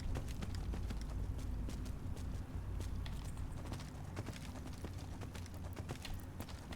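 Horse hooves clip-clop steadily in Skyrim, a dense, even trot that runs throughout at moderate level with no talk over it.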